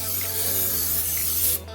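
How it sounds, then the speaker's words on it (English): Cooking spray from a can hisses onto a polenta pizza crust in one steady, close, continuous burst lasting over a second before cutting off abruptly. "lightly spray it with some pan spray"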